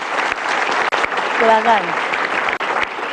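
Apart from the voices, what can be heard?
audience applauding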